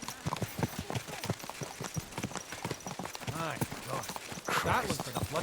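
Horse hooves clip-clop in a steady rhythmic gait in the video game Kingdom Come Deliverance 2. The hoofbeats stay close and continuous while voices speak over them.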